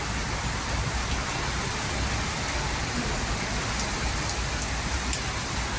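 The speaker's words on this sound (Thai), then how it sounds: "ฝนตกค่ะโอ้ยตกอย่างแรง" Rain pours down heavily and steadily, a dense continuous hiss of drops on surfaces with no break throughout.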